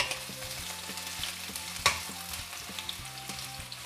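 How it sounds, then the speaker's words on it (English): Onions sauté in hot oil for a chicken curry, giving a steady close sizzle with soft stirring clicks and one sharper crackle partway through. "So we're going to saute the onion first."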